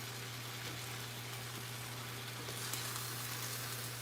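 Onions frying in a pan, giving a steady, even hiss of sizzling under a low constant hum, with no talking.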